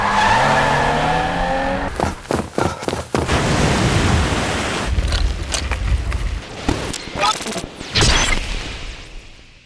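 Car engine and racing sound effects faded into an edited sequence, with revving, skids and sharp bursts like gunfire, loud and busy throughout, with some talk mixed in.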